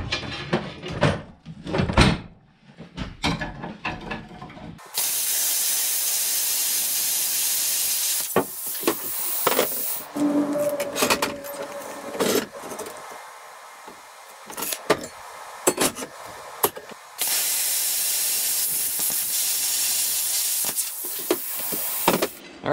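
Loud, sustained broadband hiss of metal plate being cut for snow pusher skids on a Kubota BX pushbox build, running in long steady stretches broken by short pauses and clanks, without talk.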